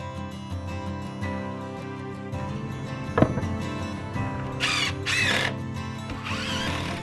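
A power drill drives metal screws into J-channel on a shed build, with several short whirring bursts against a low hum and one sharp knock, close and moderately loud.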